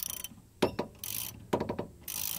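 Close ratchet clicks in two short bursts as a long bolt is turned clockwise to press the collar of a front wheel bearing on a Ford BA/BF Falcon, separated by quieter scraping and hiss.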